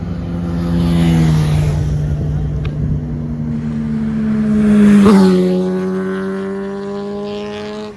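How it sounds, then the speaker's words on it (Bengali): Motorbikes passing on a road on an Independence Day morning, their engines droning and rising and falling, with one passing close and loud around the midpoint before others follow. "এখনো বাইক অনেক আসছে"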